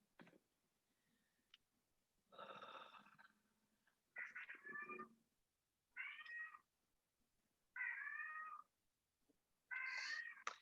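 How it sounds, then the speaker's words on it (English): A cat meows five or six times in separate drawn-out calls spaced a second or two apart, close and clear against a quiet room with faint ticks. "That's my son's cat, so just disregard."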